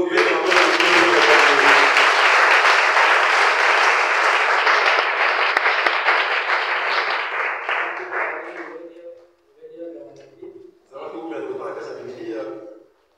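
A church congregation applauds and cheers loudly in a dense, sustained burst that fades out after about nine seconds, followed by brief voices.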